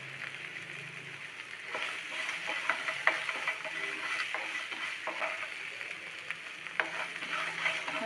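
Turmeric powder stirred into crab masala frying in a pan for crab pepper curry: a steady sizzle under repeated scraping and tapping of a spoon, with a voice speaking quietly now and then.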